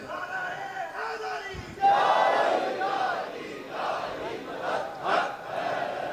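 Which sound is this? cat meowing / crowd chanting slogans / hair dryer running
crowd chanting slogans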